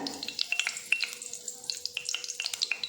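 Cinnamon and bay leaves tempering in hot oil, giving a light crackling sizzle of quick pops and ticks over a low steady hiss, close by with no voices.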